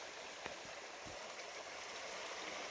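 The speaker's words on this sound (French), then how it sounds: "on a un beau petit ruisseau à l'état purement sauvage" A small wild brook flowing steadily in the outdoors, a constant soft rushing and trickling of water with a few faint knocks, no voices.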